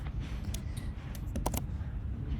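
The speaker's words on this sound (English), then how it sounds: "hit G on my keyboard, move things around" Computer keyboard being tapped during 3D editing work, a handful of sharp separate key clicks scattered over a couple of seconds against a low background hum.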